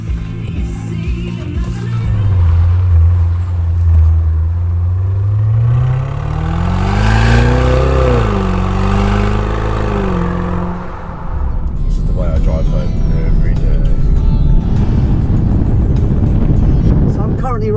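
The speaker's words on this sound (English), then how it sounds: "And this is with valves open" A 4.4-litre V8 Range Rover P530 with a Quicksilver stainless exhaust and its valves open rumbles and revs, rising and falling in pitch, loud and close inside the cabin, with people talking over it.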